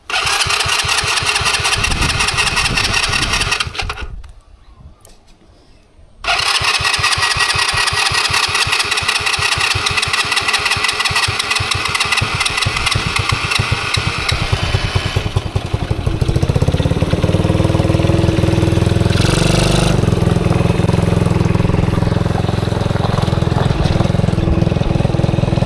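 A roadside-find ATV with a new carburetor cranks over, stumbles briefly into quiet, then fires up and settles into a steady, loud, close idle that deepens and smooths toward the end.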